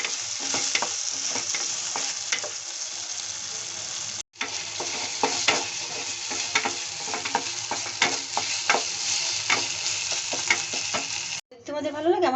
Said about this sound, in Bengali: এখন আমি দিচ্ছি পুড়িয়ে রাখা সজনেগুলো বা সজনের শাঁসগুলো। এখন ভালোভাবে ভেজে নেব।